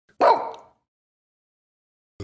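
A dog gives one short, loud bark up close, followed by silence and the start of another sound at the very end.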